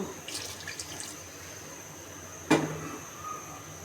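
Water poured into a pot of rohu fish curry with potatoes and okra, a soft trickle early on followed by one short splashy burst midway, faint against a quiet kitchen background.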